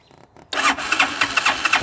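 A four-wheeler engine cranks and catches after a half-second of quiet, then runs loud and close with rough, pulsing bursts, its throttle cable broken.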